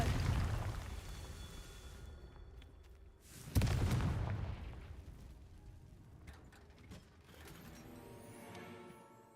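A Confringo fire blast spell bursts with a sharp boom in Hogwarts Legacy, a single loud explosive hit over a rumbling, crackling game background that fades out afterward.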